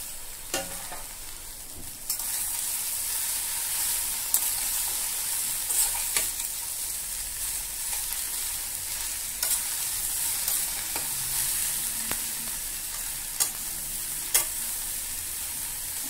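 Green chilies and spring onion stalks fry in hot mustard oil, giving a steady, close sizzle with scattered crackles and pops and occasional stirring scrapes, with no voices.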